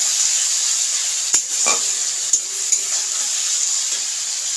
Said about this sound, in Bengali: একসঙ্গে দিয়ে ভালো করে কষে নিচ্ছি সেদ্ধ করা মটনটা